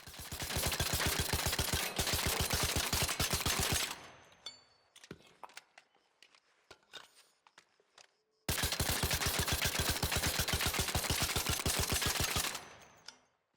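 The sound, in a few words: Kettle gun firing with compensator in video game ARC Raiders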